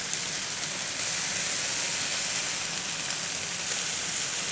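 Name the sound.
boneless skinless chicken breast searing on grill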